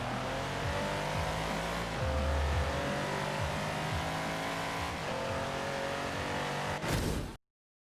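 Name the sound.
Mercedes-Benz SL65 Brabus V12 engine in video game Forza Horizon 4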